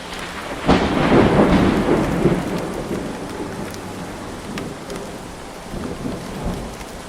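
Heavy rain pours down during a thunderstorm in a village. A loud thunder rumble breaks in early and slowly fades, leaving a steady hiss of rain falling on surfaces.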